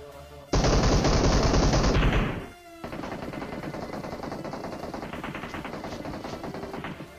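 Rapid automatic gunfire from the PUBG battle royale game on the Erangel map, a loud sustained burst lasting over a second, then a lighter stream of repeated shots continuing steadily underneath.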